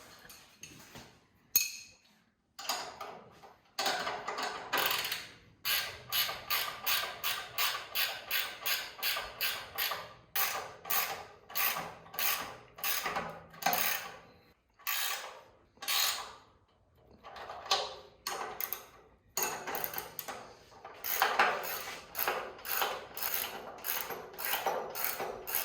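A ratchet tightens bolts on the front suspension of a 1934 Chevy hot rod utility. Long runs of steady, quiet, close clicking come in repeated strokes with brief pauses between sets.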